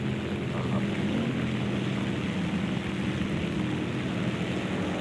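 A Bf 109 fighter's engine drones steadily in War Thunder, a continuous broad propeller roar that holds at even loudness throughout, with no voices.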